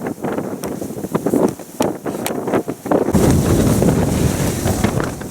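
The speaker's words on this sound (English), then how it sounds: "I just couldn't even push with the wind blowing on everything" Strong wind blowing on an open Antarctic expedition route toward the South Pole, a loud, steady roaring rush buffeting the microphone, gusting with sharp flaps at first and then settling into a continuous heavy blast.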